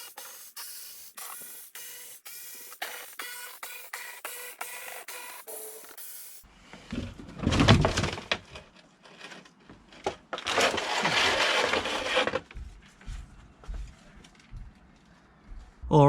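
Screws come out of the plastic under tray of a BMW E87 130i with an 8mm socket, first as a fast run of sharp ratchet clicks, then as scraping and rubbing noises, with a voice at times.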